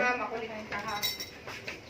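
A plate, spoon and fork clink and chink lightly as they are handed over in a home kitchen, several brief metallic taps while people talk nearby.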